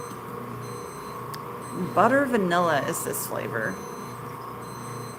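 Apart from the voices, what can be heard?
electronic beeps in the background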